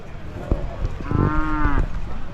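A single drawn-out low bellow from a Hallikar working bull rises over background noise at a village fair, lasting under a second, with faint voices nearby.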